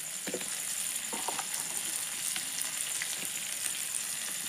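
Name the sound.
meat and potato pieces frying in a pan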